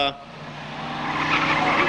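Stock cars race down the back straightaway at Seekonk Speedway, a loud, rising roar of engines with some tire noise building over two seconds, with a race commentator talking over it.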